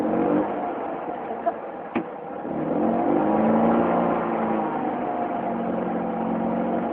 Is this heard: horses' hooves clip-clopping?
no